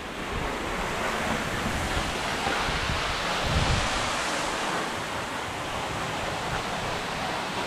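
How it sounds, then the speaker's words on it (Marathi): Monsoon runoff at Nani waterfall near Bhandardara pours in a continuous, even hiss of rushing water, close and moderately loud, with some wind buffeting on the microphone and no voices. "माझ्या पाठीमागे नाणी वॉटरफॉल आहे"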